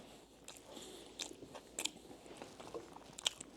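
A Costco deli sandwich is bitten and chewed close up, with soft crunchy bites and moist chewing at irregular intervals, quiet, with no talking.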